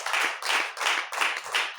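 A church congregation claps in praise of God, with five rhythmic bursts of clapping in a steady beat, close and fairly loud.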